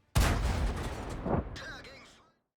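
A tank cannon fires in a tank video game: one sudden loud blast opens, followed by a rumbling, decaying roar and a couple of fainter metallic echoes.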